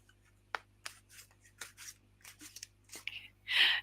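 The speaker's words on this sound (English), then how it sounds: "she can hear you shuffle" Close rustling and shuffling of movement right by the microphone, in short irregular scrapes and rubs that end in a louder brushing burst.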